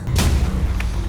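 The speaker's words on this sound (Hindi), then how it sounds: "ये तो गोली चलने की आवाज है।" A single sharp boom bursts out near the start over a low rumbling background, with a fainter crack following a moment later.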